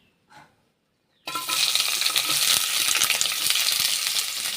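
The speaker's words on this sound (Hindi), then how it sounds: "तो पहले हम उसमें ऑयल डालेंगे और ऑनियन और टमाटर जो हैं उसको अच्छी तरह से सौते कर देंगे।" Onion hits hot oil in a pan while cooking Goan-style spicy fish curry, bursting into a loud, steady sizzle after a brief quiet moment and crackling on unbroken to the end.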